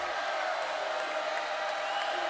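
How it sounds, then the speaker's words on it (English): Volleyball crowd cheering at a women's college match between Washington and USC, a steady, loud wash of arena noise and shouts holding at one level throughout. "Crowd trying to get involved."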